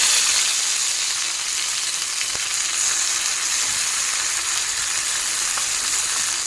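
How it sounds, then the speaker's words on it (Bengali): Washed, still-wet neem leaves crackle and hiss in hot mustard oil in a wok, a loud, steady sizzle that fills the whole stretch without pause. "গরম কড়াইয়ে তেলের মধ্যে দিয়ে দেবো নিম পাতা।"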